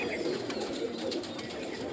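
Pigeons kept by a hobbyist give soft, low cooing calls over a busy, noisy outdoor backdrop, steady and moderately faint with no speech.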